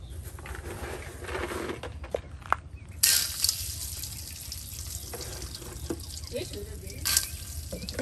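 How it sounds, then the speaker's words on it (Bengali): Corn kernels frying quickly in a pan for popcorn in a village kitchen, giving a soft, continuous hiss and sizzle with a few brighter crackling bursts, fairly close and alone. "একদম ঝটপট ভেজে নেওয়া হচ্ছে এই যে ভুট্টা"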